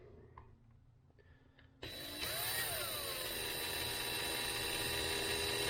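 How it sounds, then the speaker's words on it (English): A power drill spins bent engine valves taken from a 2007 Kawasaki KX450F cylinder head, starting abruptly after a few faint clicks and then whirring steadily and loudly up close, pitch rising slightly as it gets up to speed. "Best thing to do is just chuck them up in a drill, and you can spin them."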